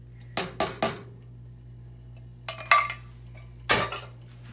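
A pot of taco soup with black beans and rice being stirred, the utensil clanking against the pot in three quick bursts of three, three, then two knocks, fairly close with a low steady hum beneath and no talking.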